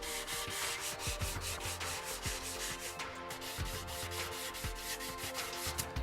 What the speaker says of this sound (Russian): берем 150 и 180 шкурку и зачищаем то место, где было пятно